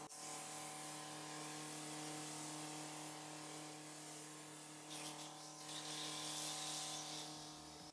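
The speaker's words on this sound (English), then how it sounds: "Turn it on the first setting and spray around your face." Fine mist from a handheld face spray bottle set to its first setting, a continuous airy hiss under a steady electric hum, swelling briefly near the end as it is spritzed around the face.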